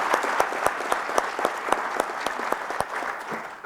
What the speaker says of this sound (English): Please give these cadets a round of applause for a job well done.